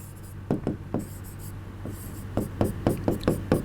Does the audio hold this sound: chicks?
no